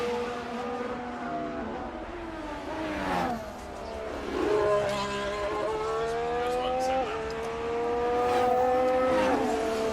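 Formula 1 cars at Australian Grand Prix practice scream past one after another, their high engine notes rising and falling as they approach and fade, loud and continuous.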